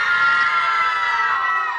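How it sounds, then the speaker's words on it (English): A crowd of children chatters and shouts together in a steady, dense wash of voices with no single voice standing out. "Children chit chat."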